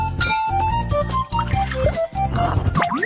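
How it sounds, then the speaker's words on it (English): Latex and water are poured together for a craft project, giving gurgling, bubbly liquid sounds with rising filling tones and small splashes over a bright musical background. "Mix latex and water."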